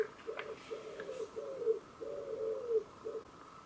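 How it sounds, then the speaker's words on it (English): A pigeon nesting on a fireplace coos in soft, repeated low phrases, a rhythmic series of hoots fairly close but quiet, with no talk. "There's a fucking pigeon nesting on the fireplace, terrifying my bearded dragon."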